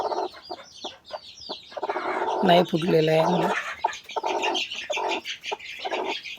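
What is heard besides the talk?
hen clucking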